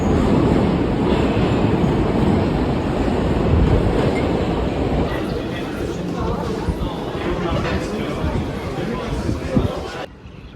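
Rumbling metro carriage in motion, a steady low roar with rattling throughout and background chatter from passengers, easing slightly after the midpoint before a sharp drop near the end.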